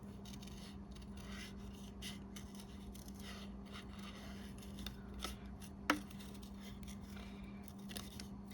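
Scissors snip through paper while following the outlines of small leaf shapes for a handmade card, producing faint, scattered cuts over a steady low background hum with no talking.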